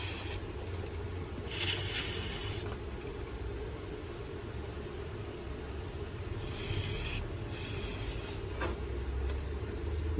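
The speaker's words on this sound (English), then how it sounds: "So I'm just using some Mopar throttle body intake cleaner that I had laying around" Mopar throttle body intake cleaner sprayed from an aerosol can into the idle air control passage of a 1996 Jeep XJ: two separate bursts of loud, steady hissing spray over a low background rumble, with no talking.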